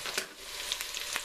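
Onions crisping as they fry in a pan for an oxtail soup or stew, giving a steady close sizzle with a few brighter crackling pops across a short stretch.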